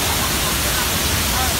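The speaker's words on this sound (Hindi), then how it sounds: "ये जो चीजें देख तू, धनगर वाटरफॉल।" Rushing water from Dhangar waterfall, a dense, steady broadband roar filling the short stretch.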